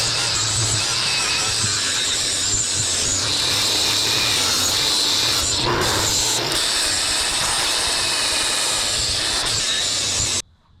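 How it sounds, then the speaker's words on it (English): An angle grinder with a coarse 40 grit flap disc grinds down a rusty GMT900 truck frame, a steady loud abrasive whine and hiss running unbroken for about ten seconds before cutting off. "40 grit flap disc makes pretty quick work of it."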